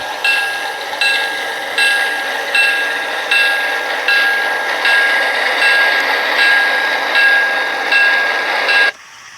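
A Broadway Limited Imports Blue Line RSD-15 model diesel locomotive running under DCC sound, a steady loud mechanical hum with regular repeating pulses for about nine seconds, then cutting off abruptly.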